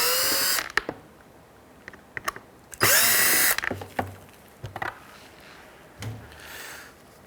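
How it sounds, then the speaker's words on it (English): A Phillips screwdriver works loose the license plate bracket screws on a 2003-2011 Honda Element front bumper: sharp clicks and clinks, a loud whirring burst in the middle, then scattered taps and faint rattles, close up. "So we're going to do that with a Phillips screwdriver."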